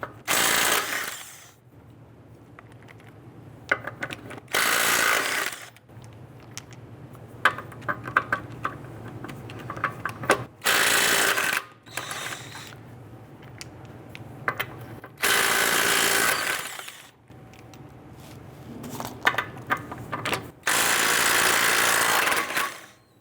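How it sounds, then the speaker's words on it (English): A 21mm socket on a power tool loosens and removes the lug nuts of a 2005-2010 Chrysler 300. Several loud, whirring bursts of a few seconds each are separated by quieter ratcheting clicks and handling noises, with no speech. "I'm going to use a 21mm socket. I'm going to loosen and remove our lug nuts."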